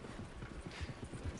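Hooves of a horse in Red Dead Redemption 2 clop in an uneven, moderately close rhythm over a soft ambient game background, with no talking.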